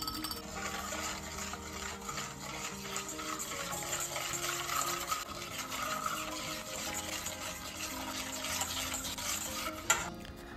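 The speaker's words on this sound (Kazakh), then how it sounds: "венчиктің көмегімен қант ерігенге дейін жақсылап араластырамыз" Milk, vegetable oil and eggs are whisked together in a bowl for Japanese pancake batter, a steady close scraping and swishing that runs continuously for about ten seconds and stops abruptly near the end.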